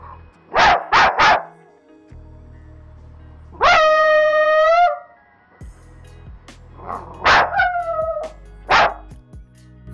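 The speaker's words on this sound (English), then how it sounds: "It kind of sounds like a dog sound effect of an old Disney cartoon." An AI-generated music remix of a dog barking, with a cartoonish tone: quick triple bark bursts, a long stretched whining yelp, then more barks and a howl-like cry over a low steady bass drone.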